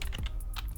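Computer keyboard keys clacking in a short burst of typing, a few distinct clicks close up over quiet background music.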